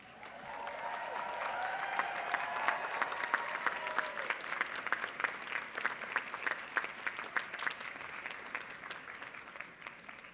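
Sustained applause from a graduation audience at a university commencement and hooding ceremony, dense even clapping that rises in the first seconds and holds steady throughout, broad and fairly loud, with faint crowd murmur beneath.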